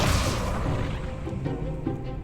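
Incendio fire spell cast in Hogwarts Legacy, a dense burst of fiery crackle and rumble that stays loud and steady for the whole short moment, mixed in with game sound and no voices.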